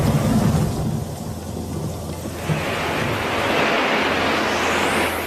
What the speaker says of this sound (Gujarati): એટલો મુશળધાર વરસાદ થવા લાગ્યો